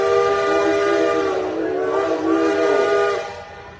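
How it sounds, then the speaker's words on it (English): A Case 150 steam engine hooked to a sled at a pull in Pinckneyville, Illinois sounds a loud, sustained steam whistle with layered harmonic tones, held steadily for about three seconds before tapering off. "he lays on that whistle. It's loud"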